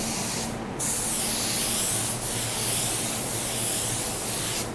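A spray gun lays down a pearl paint coat in a continuous loud hiss, with brief dips and restarts between passes and no talking.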